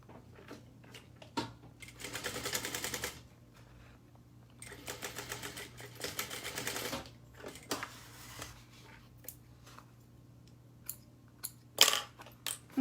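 A home sewing machine stitches a quarter-inch seam in short bursts of rapid, buzzing needle chatter, close up, separated by pauses and small handling clicks.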